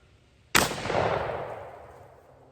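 A budget semi-automatic shotgun fires a single low-recoil shell outdoors, a sudden loud blast followed by a long rolling echo that fades over two seconds.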